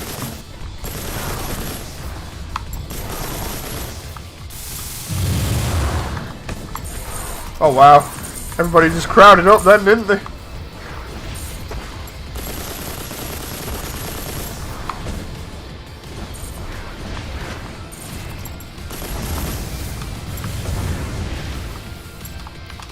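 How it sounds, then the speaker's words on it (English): Bursts of weapon fire and missile blasts from the video game Mass Builder, booming impacts and rattling shots clustered mid-clip, with someone talking over the action. "I like all the weapon sounds sounding like they have one hell of a kick to them"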